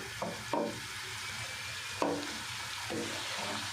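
Aloo gobhi, potato and cauliflower, frying on a high flame as a spoon turns it, with a few sharp scraping strokes over a steady, close sizzle.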